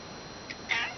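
A tortoiseshell cat, also called a dilute calico, gives one brief meow and then a slightly longer, louder one, both fairly faint against a quiet room hiss with no talking.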